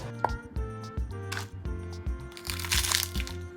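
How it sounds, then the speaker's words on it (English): A cleaver chops through crispy, blackened dried chili peppers that were stir-fried with Sichuan peppercorns, giving a close, dry, brittle crackling and crunching with irregular knocks on the board over a few seconds. "Chop the chili peppers."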